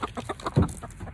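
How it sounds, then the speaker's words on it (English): A farm hen gives a quick run of short, close clucks, with one louder squawk partway through and no talk over it. "That's one of the new hens."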